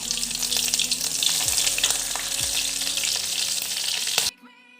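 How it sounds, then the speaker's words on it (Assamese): Cumin seeds and slit chillies sizzle loudly in hot oil left from frying rohu fish, a steady close crackle that cuts off abruptly near the end. "মই এতিয়া মাছ ভজা তেলখিনিতে কেইটামান জিৰা দি দিম।"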